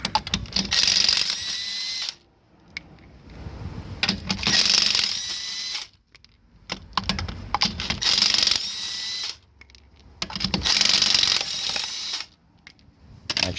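Impact wrench spinning 21 mm lug nuts off the front wheel of a 2002 Toyota RAV4 during a brake pad job, in four loud buzzing bursts of about two seconds each, separated by short pauses, with no talking.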